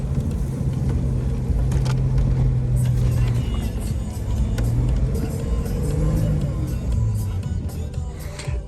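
A Nissan Super Safari revs hard with one wheel stuck in deep snow, its engine roaring in sustained surges and easing off between pushes, close and loud.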